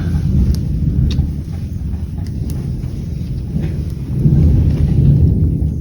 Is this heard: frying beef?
no